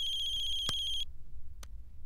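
A telephone ringtone trills steadily for about a second, cut by a sharp click, then a short burst of noise follows over a low hum, with no talking.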